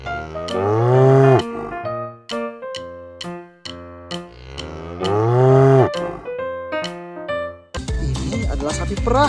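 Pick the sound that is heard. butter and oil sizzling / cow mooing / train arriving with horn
cow mooing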